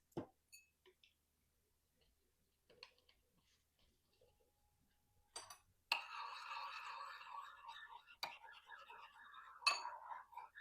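Chia pudding mixed with homemade Brazil nut milk gives faint clinks and light taps of a spoon in glass, followed by louder, continuous stirring and scraping, with soft whispered speech at times.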